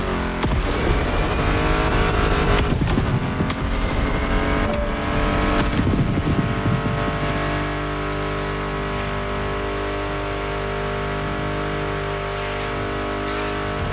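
Car engines, including a Mustang GT Fastback in The Crew Motorfest, rev and roar loudly over a driving synth music track, with tire squeals and bursts of acceleration early on before settling into a steady engine drone.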